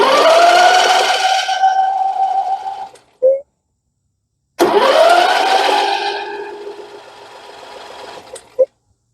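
Briggs and Stratton engine on an MTD 21hp 46-inch lawn tractor cranking over, two loud whirring starter bursts of about three seconds each, separated by a brief silence, with short clicks as each stops.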